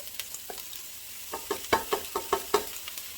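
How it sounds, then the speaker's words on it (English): Green peppers and onions added to a pan with sausage, a quiet sizzle under a series of short, rhythmic stirring scrapes that grow louder toward the end. "So I'm going to put in the green peppers and the onions."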